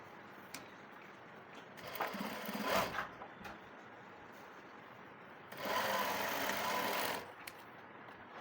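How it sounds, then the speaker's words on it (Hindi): A sewing machine stitches the shoulder seam of an Anarkali dress in two distinct runs of fast mechanical whirring, one around a second long and a longer one later, with quiet pauses between. "उसके बाद दोनों को आपस में जोड़ेंगे और शोल्डर की सिलाई लगाएंगे"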